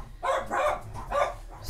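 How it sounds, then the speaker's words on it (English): Several dogs barking together at some distance, three bursts of overlapping barks and yips in quick succession with no talking. "that's a bunch of dogs going out at the same time"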